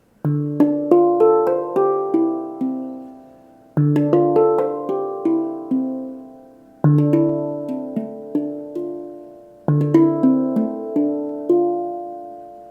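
A handpan in a Celtic scale rings out in four struck phrases, each a cluster of bright, sustained metallic notes that decay slowly, close and clear with no voices.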